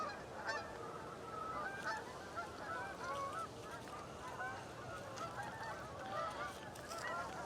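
A large gaggle of geese honks continuously, many overlapping calls at moderate distance forming a busy, layered chorus with no talking.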